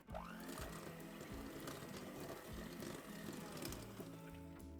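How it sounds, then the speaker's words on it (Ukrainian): An electric hand mixer beats soft butter with sugar for a quick peach cake: a steady motor whine that rises in pitch at the start, then runs continuously at close range. "в тарілочку відправляємо м'яке вершкове масло, цукор і трошки збиваємо міксером"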